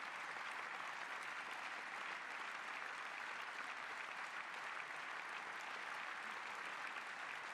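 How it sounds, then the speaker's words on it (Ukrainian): Steady, dense applause fills a parliament chamber after a chancellor vote, a continuous wash of many hands clapping at an even level with no pauses. "Es ist noch Zeit zum Applaudieren gleich"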